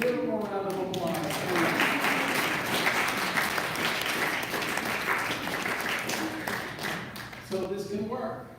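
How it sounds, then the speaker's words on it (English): Sustained applause from an audience at a talk on preventing Alzheimer's, dense and steady throughout, with a voice briefly heard at the start and end over the clapping. "Please give him a round of applause."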